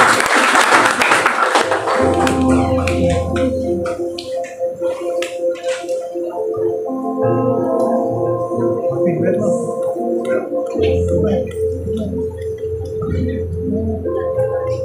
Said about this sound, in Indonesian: Mari kita berikan tepuk tangan bagi Tuhan.